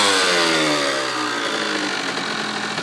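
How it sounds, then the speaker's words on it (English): A 2002 Kawasaki KX85 two-stroke dirt bike engine revved hard while still cold, a loud, raspy, high-pitched whine held near the mic, easing slightly as revs settle over a few seconds. "I know it's not good to rev when it's cold."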